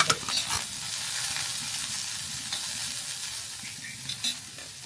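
A little oil sizzles on a hot tava while a ground masala paste for stuffed brinjal is roasted and stirred. Close, steady frying crackle runs throughout, with a few sharper scrapes of the spoon and no talking.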